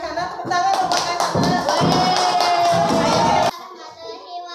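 Classmates clap for a student at an elementary school in Murung Keramat, a burst of close, sharp claps from a small group lasting about three seconds and then cutting off, leaving light room noise and faint children's voices.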